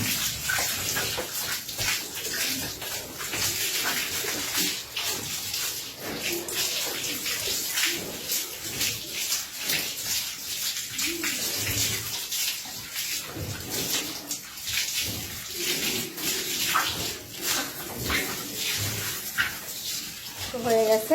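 Water splashes and pours steadily during a bath, a continuous bright wash of noise with irregular surges, while people talk over it nearby.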